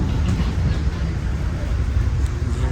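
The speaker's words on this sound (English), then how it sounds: "Now, Metro North, we are arriving." A Metro-North commuter train pulls into Tarrytown station with a continuous low rumble and steady mechanical roar from nearby, with no break in the noise.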